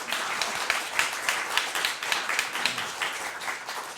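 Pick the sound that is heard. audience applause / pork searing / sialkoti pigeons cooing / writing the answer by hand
audience applause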